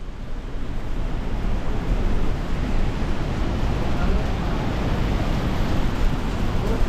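The Saraswati river rushing past at Mana village in the mountains, a loud, steady broadband roar of fast water mixed with wind buffeting the microphone, continuous throughout.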